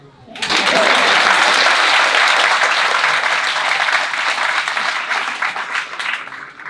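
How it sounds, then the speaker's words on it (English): Crowd applause at an outdoor community menorah lighting in Reading, Massachusetts, held in the rain: a dense, loud burst of clapping begins abruptly and holds steady, easing slightly toward the end. "Let's get a round of applause for that."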